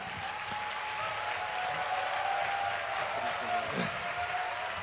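Audience at a student conference opening ceremony claps throughout a donation handover, a steady, fairly loud wash of applause with faint voices mixed in.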